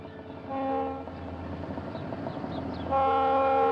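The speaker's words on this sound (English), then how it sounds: "The trailing red, white, and blue SD-45 was a former Erie Lackawanna bicentennial unit" A Conrail train led by diesel locomotives, including an SD-45, rolls past with a steady rumble while its horn sounds in two blasts, a short one early and a louder sustained one at the end.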